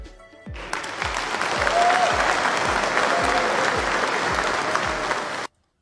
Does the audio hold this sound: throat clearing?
no